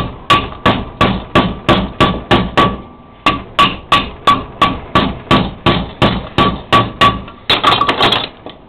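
Steel clutch retaining clips for a Nuffield tractor are hammered over in a vise, a long series of sharp, evenly spaced metallic blows, loud and close, quickening into rapid strikes at the end.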